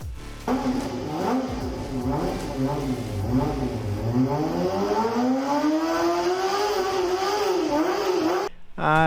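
A tiny Kawasaki 250cc inline-four motorcycle engine revs hard and high, its pitch sweeping up and down through repeated throttle blips, loud and close, cutting off abruptly near the end.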